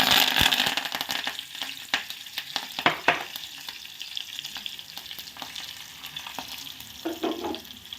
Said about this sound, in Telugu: ఆ కడాయిలో వేరే ఆయిల్ వేసి ఫస్ట్ బాగా కాగనివ్వాలండి. కాగనిచ్చిన తర్వాత వెల్లుల్లిపాయలు వేయాలి ఫస్ట్.